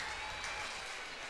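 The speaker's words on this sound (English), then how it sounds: "That round of applause there is for the injured Kelso runner who is making his way" Brief, distant applause from spectators at a high school track and field championship for an injured runner leaving the track, a soft, even patter of clapping across an open stadium.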